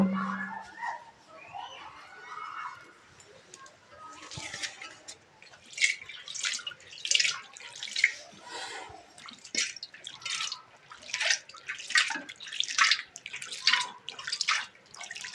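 Rainwater is thrown out of a flooded home by hand in a series of irregular splashes and sloshes, with dripping and a brief voice early on.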